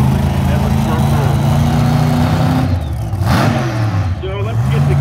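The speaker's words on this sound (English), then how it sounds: "Jason Lee is driving his hot rod" A hot rod engine idling and revving at drag race qualifying, a loud low rumble with rising and falling throttle blips, heard close with voices talking over it.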